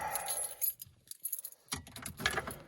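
Metal truck keys for a Chevy Colorado jangle and clink in a few short bursts, close by, with quiet gaps between handfuls of rattling.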